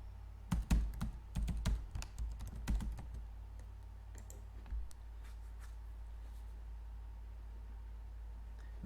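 A password being typed on a computer keyboard, a quick cluster of crisp key clicks in the first three seconds followed by a few scattered taps over a low steady hum, close and quiet.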